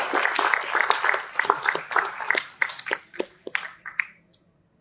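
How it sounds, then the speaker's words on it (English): Scattered clapping from the audience at a cyclathon event, separate claps rising and falling over a few seconds before stopping abruptly. "Yes, a big clap for everyone, please."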